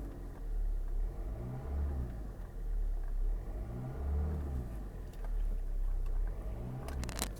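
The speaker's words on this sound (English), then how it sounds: "let it warm up, let the engine warm up for a minute or so, and then I'll go ahead and rev it" A Hyundai car engine idles as it warms up, then revs in several rising and falling surges over a steady low rumble, close and fairly loud with no talking.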